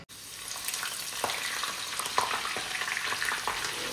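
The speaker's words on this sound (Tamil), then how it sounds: "பச்சை மிளகா ஃப்ரை பண்ணி போடுறதுக்காக போட்டிருக்கேன்" Green chillies fry in a pan with steady crackling sizzle and occasional stirring scrapes, close and continuous with no talk.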